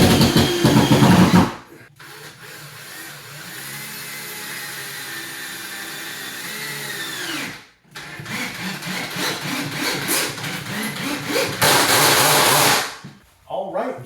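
A power drill drives three screws through a cabinet back into a wall stud, hanging an upper kitchen cabinet against the ceiling during a remodel. Close, loud motor whirs run in bursts that rise and fall in pitch, separated by short pauses.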